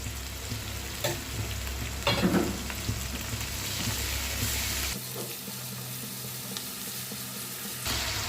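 A spoonful of paste fries with onion pieces in a pan for bhindi pulusu, giving a steady close sizzle with occasional stirring scrapes, then the sizzle thins and quiets partway through before a brief clatter at the end.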